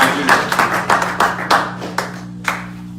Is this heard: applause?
yes